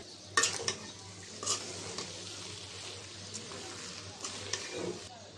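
Potatoes are added to beef and rice frying in a pot for biryani, with scraping spoon strokes and a few sharp clanks over a soft, continuous sizzle, moderately quiet and close.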